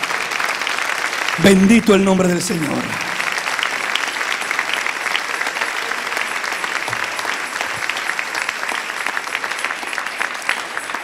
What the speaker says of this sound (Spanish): Denle un aplauso al Rey si lo siente en su corazón.